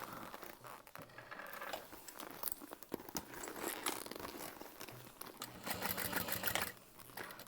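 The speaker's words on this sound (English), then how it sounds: "Okay, so then I'm top stitching." A sewing machine top-stitches slowly through a bulky bag with side connectors and a slip pocket, producing faint, uneven bursts of clattering needle rhythm with rustling of fabric in between.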